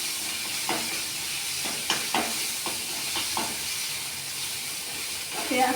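Grated onion and ginger browning in oil keep up a moderate sizzling hiss, punctuated by several stirring scrapes and a quiet voice now and then.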